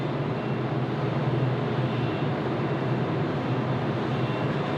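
A Boeing 747-400 freighter departs Sydney Airport with a steady, loud, broad engine roar that stays even and continuous throughout.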